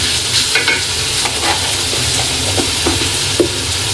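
Ginger paste added to a frying pan for beef biryani cooking, a loud close sizzle with repeated stirring scrapes and clinks of a spoon against the pan, steady throughout.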